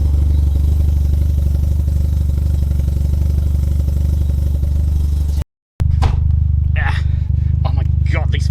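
A Mazda RX-7 FC rotary engine runs with a steady, loud low drone inside the car, continuing under people talking while it briefly cuts out and resumes.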